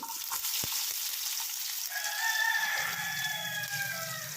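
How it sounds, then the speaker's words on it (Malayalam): Mustard seeds, fenugreek and shallots splutter and sizzle in hot oil for a tempering, a steady close crackle with a rooster crowing in the background. "എണ്ണ ചൂടാക്കാം, കടുക് പൊട്ടിക്കാം, ഉലുവ, അതുപോലെ തന്നെ ചുവന്നുള്ളി"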